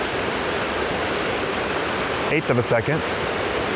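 A white waterfall tumbling among rocks, with grass below and a tree above, gives a constant broad rushing roar; a person speaks briefly over it near the end.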